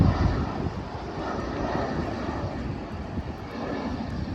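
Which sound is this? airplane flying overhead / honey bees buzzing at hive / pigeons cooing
airplane flying overhead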